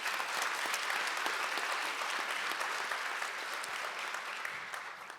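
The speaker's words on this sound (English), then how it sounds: "Please give the ladies a round of applause." Steady, full applause from a large conference audience in a hall, loud and sustained throughout before easing slightly at the end, with no voices over it.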